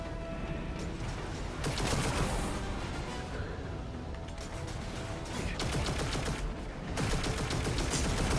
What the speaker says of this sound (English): You guys are gonna barrage the crap out of me with all those bullets